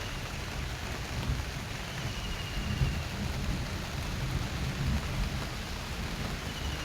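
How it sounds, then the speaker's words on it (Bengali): Light, steady rain falls outside a balcony, an even, soft hiss of drops that continues without pause throughout, with no voices. "রিমঝিম টিপটাপ বৃষ্টি, খুব জোরেও হচ্ছে না, খুব স্লো হচ্ছে"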